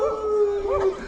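A person imitates a dog's howl, drawing out a long wavering tone that dips and rises again in a second swoop, close and clear.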